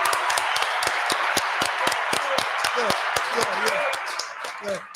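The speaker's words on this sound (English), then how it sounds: "Man, everybody give a clap." A crowd claps for a man called Squirt in a quick, steady rhythm of sharp, close hand claps that carry on throughout, with a voice rising faintly near the end.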